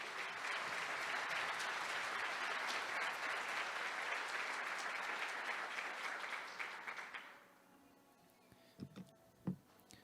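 A church congregation applauds after a sermon reading, a sustained dense clapping wash for about seven seconds that then drops away to near quiet with a few faint knocks.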